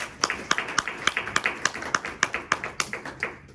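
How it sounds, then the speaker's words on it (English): A small class audience claps at a speaker event, a sparse, uneven run of individual hand claps at close range, fairly quiet and without talk. "Let's give them a round of applause."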